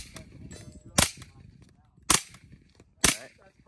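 A rifle fires two-round bursts outdoors at a range, three sharp loud cracks spaced about a second apart, each with a short echoing tail over quiet background.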